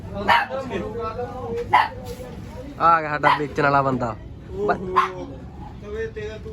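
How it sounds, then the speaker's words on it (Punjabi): Two single-coat husky puppies for sale at the Maghi horse fair in Sri Muktsar Sahib yip, bark and whimper in short, close bursts while people talk over them. "ਹਸਕੀ ਸਿੰਗਲ ਕੋਟ ਉਹ ਦੋ ਕਤੂਰੇ ਪਏ"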